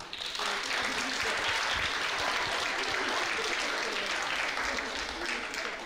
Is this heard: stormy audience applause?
yes